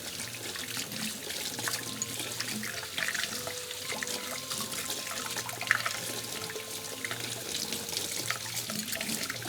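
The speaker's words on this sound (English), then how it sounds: "I'm going to give these whisks a good rinse." Tap water running steadily into a kitchen sink while baking whisks are rinsed, a continuous close splash and trickle with no talk.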